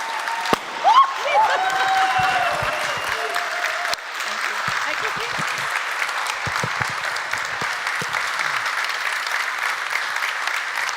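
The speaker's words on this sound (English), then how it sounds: "Let's give our wonderful events team a fantastic round of applause." Conference audience at the close of Codegarden 2023 breaks into sustained, dense applause for the events team, loud and steady throughout, with a few brief voices and whoops near the start.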